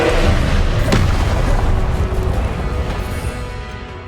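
Confringo, an explosive spell in the Hogwarts Legacy video game: a loud, booming blast with a sharp crack early on that rolls into a long, gradually fading rumble.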